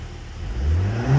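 Cadillac CT4-V engine revved in neutral as if power braking: a brief, loud, rising engine roar, steady and close, with no voices.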